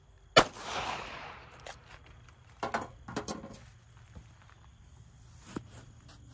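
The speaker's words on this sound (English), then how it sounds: "Now, point blank 357 Magnum." A single sharp, loud .357 Magnum shot is fired point-blank into a pillow. A quiet decay follows, then soft scattered clicks and rustles.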